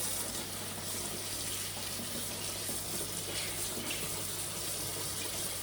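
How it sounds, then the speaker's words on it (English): Tap water runs steadily over a scotch bonnet pepper at a kitchen sink, giving a continuous close splashing hiss with a faint low hum beneath and no talking. "Now I'm going to wash my scotch bonnet because you don't want no dirt or bacteria."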